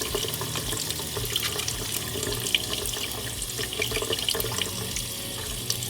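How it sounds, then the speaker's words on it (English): Tap water runs steadily into a sink while hands are scrubbed vigorously beneath it, a close, continuous splashing with small irregular spatters and no speech. "I'm washing every surface of my hands with some vigorous scrubbing"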